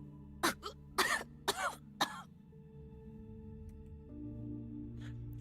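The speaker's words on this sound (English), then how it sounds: "She coughs. It's a wet, gurgling sound, the noise of bloody foam churning in her throat." Wet, gurgling coughs from a wounded female character in the video game Path to Nowhere, four or five harsh bursts close together near the start, then a low ambient game hum continues.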